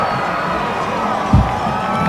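Football crowd at a 1997 Thanksgiving high school game between Coyle and THS roars continuously after a touchdown, a dense, loud wall of cheering and shouting with a brief burst of louder noise near the middle.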